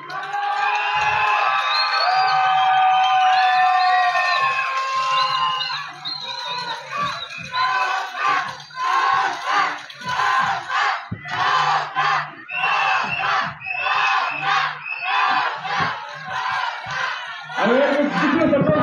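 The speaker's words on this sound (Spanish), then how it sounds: "Escuchen los aplausos para cada una de ellas" Crowd at a national holiday festival queen pageant in Quecholac, Puebla, whooping and cheering loudly, then breaking into bursts of rhythmic shouting and clapping in waves.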